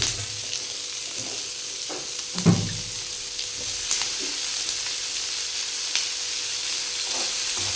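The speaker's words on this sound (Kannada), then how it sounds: "ಚಂದ ಹುರಿಬೇಕು ಅದು ಮೆಣಸಿನ್ಕಾಯಿ" Chillies fry in a pan for Hyderabad paneer masala, a soft continuous sizzle broken by a few sharp scraping stirs and clinks, with no talking.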